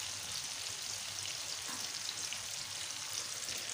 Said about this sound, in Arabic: ما زالت عندي قلية متاع بطاطا، القلية بتاع البطاطا